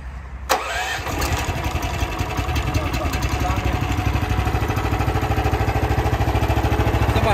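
The petrol engine of a Motor-Sich Ukrainian single-axle walk-behind tractor fires up with a sudden catch. It then settles into a close, even, rapidly pulsing idle that holds steady to the end.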